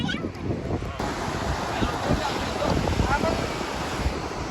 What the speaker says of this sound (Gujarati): અત્યારે દરિયામાં મોજા બહુ મોટા મોટા ઉછળી રહ્યા છે